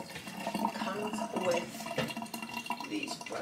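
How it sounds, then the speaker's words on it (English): Running tap water rinses a Hurom juicer part with bits of greens on it, a steady close splashing wash that carries on throughout. "I will rinse it right away and then I go in with soap."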